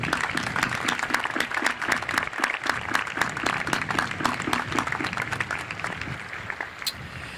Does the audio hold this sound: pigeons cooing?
no